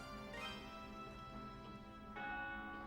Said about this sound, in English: There's that bell again.